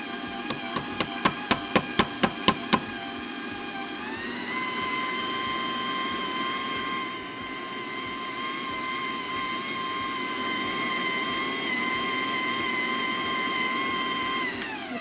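A stand mixer whirs steadily while mixing Swiss meringue buttercream, preceded by a quick run of about ten sharp taps on the bowl; the motor's whine shifts up in pitch and then holds loud and constant.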